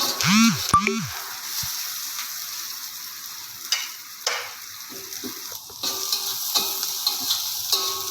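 Meatballs sizzling and being stirred in a frying pan, a soft steady hiss broken by clicks and scrapes. A voice is heard briefly near the start.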